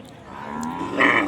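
Cattle lowing at a weekly cattle market in Naogaon district, Bangladesh, where Sahiwal dairy cows, bulls and calves are sold; one drawn-out moo swells louder toward the end, with no talk over it.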